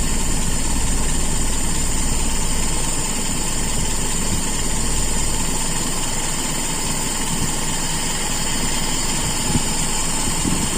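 Motorcycle engine idling steadily while its carburetor air screw is adjusted, a loud continuous close-up rumble with a persistent high whine, the low thrum shifting slightly partway through as the idle changes.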